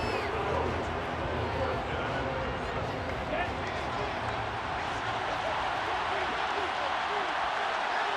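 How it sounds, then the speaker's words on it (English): Crowd applause and cheering in the football video game Madden NFL 23, a dense, steady roar of stadium noise filling the whole stretch at even loudness with no pauses. "How about some applause for the defense there?"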